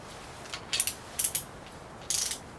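A torque wrench ratchets on ARP main studs for a GM 6.5 crankshaft, giving three short, quiet bursts of rapid clicking separated by brief pauses, with no talking.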